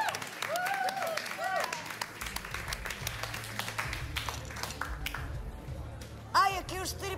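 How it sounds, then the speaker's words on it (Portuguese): An audience claps for the star act at a nightclub in a Portuguese comedy sketch, steady applause with a voice talking over it and a brief burst of louder claps near the end. "Um salve de palmas para a grande atração da Boate da Marquise, Lady Teaser"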